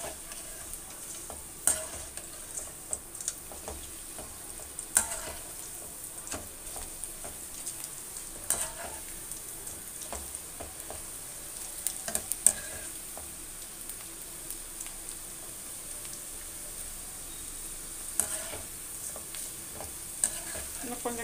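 Onion pakoda frying in hot oil, a steady crackling sizzle with occasional sharper pops and spatters throughout, close and alone without any voices.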